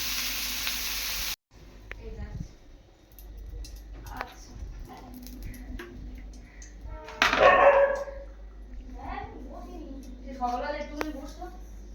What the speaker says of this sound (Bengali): বন্ধুরা ফুলকপি ভাজা চালু হয়ে গেছে।